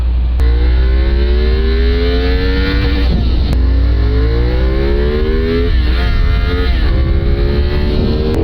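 A CFMOTO 450SR ASPAR Limited Edition motorcycle accelerates hard, its engine note climbing steadily through the revs with brief breaks for gear changes, loud and close throughout with no talking.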